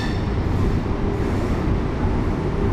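A local train at Belur Math station near Kolkata gives off a heavy, steady low rumble, close and continuous, with faint rail noise mixed in and no talk.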